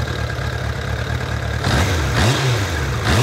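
A motorcycle engine with four inline carburetors idles with a steady low rumble, close by, and a couple of brief throttle blips make the pitch swell and fall.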